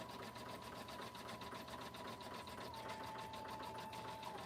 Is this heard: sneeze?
no